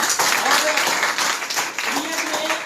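Audience applause at a Nexmoney plan presentation in a hall, a dense steady wash of many hands clapping that carries on throughout, loud and close, with a voice faintly audible underneath.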